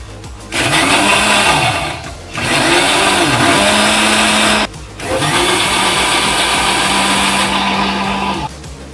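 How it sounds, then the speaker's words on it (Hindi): A mixer grinder whirs loudly, grinding fennel seeds and mint for thandai in three long bursts, each several seconds long, separated by short pauses. "अब मैं इस सबको ग्राइंड कर लूंगी ताकि सौंफ बहुत अच्छे से पिसा जाए।"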